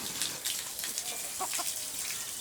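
Chickens cluck faintly in a farmyard on a bush livestock farm in New Caledonia, with a few soft calls over a constant hissing outdoor background.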